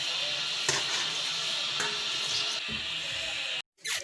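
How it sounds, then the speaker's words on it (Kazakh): Water runs at a kitchen sink as dishes are washed, with a steady moderate splash, a few knocks of dishes, and a sudden cut near the end. "Міне қыз осындай ыдыс жуып жатыр."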